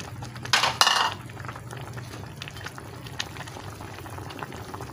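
A pot of soup with malunggay leaves bubbles at a low, steady boil, opening with a brief bright clatter of metal utensils against the pot before settling into a soft, continuous simmer with occasional faint taps.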